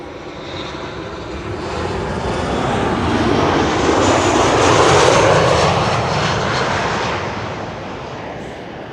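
A Peter Pan Vacation Club airliner arrives at Amsterdam Schiphol on the Kaagbaan runway after a flight from Barcelona. Its broad engine roar swells as it passes close overhead around the middle of the clip, then slowly fades.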